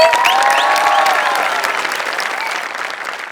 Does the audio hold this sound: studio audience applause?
yes